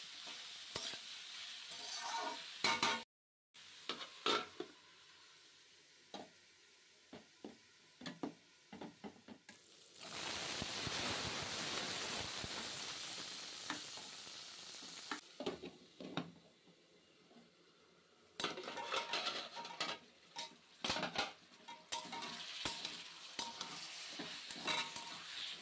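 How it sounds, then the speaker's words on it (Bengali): Bottle gourd fries with green chili and a cumin tempering, sizzling in bursts with stirring scrapes and clinks of a pan, a louder sustained sizzle in the middle stretch, close and without speech. "আর এটা লাউ দিয়ে কাঁচা লঙ্কা ফোড়ন দিয়ে জিরে ফোড়ন দিয়ে আমি বসিয়ে দেব।"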